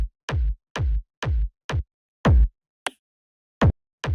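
Punchy, hard-hitting techno kick samples fire alone in a loose pattern: four tight hits, then a longer booming one, a brief clicky blip, and two more punches, loud and dry with silence between.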